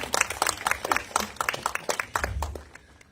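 Audience clapping at a film press conference, a short burst of scattered, fairly close hand claps that thins out toward the end.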